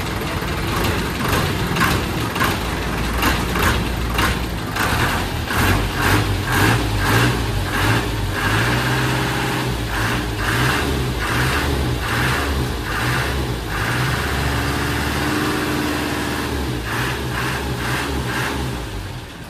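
A jeepney's diesel engine revs steadily and loudly, its throaty rumble pulsing with repeated throttle bursts for the whole stretch, with no voices over it.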